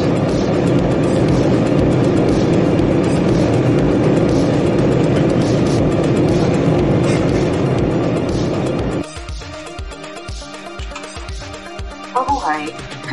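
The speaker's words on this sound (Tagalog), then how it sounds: "Palanding na ang eroplano." A Philippine Airlines airliner landing in Manila on a flight from Ho Chi Minh fills the cabin with a loud, steady roar that drops off abruptly, leaving a quieter hum with faint muffled sounds.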